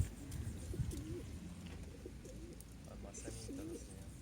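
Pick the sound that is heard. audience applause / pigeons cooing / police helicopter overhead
pigeons cooing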